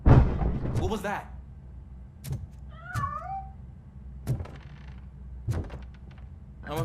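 A cat meows once with a short wavering cry inside the video game Robocop Rogue City, amid sparse thuds and creaks, while someone talks before and after it.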